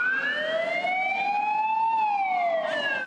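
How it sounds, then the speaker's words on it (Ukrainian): Fire engine sirens wail loudly and continuously as the trucks arrive at a shopping centre in Kropyvnytskyi during a fire drill, the rising and falling tones sustained close by with traffic noise beneath. "Уже за кілька хвилин під будівлю прибувають пожежні машини."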